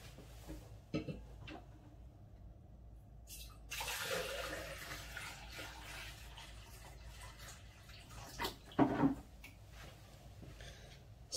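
Three liters of water poured onto a diaper, a steady close splashing wash with a louder surge partway through and a brief sharper splash near the end, no talking.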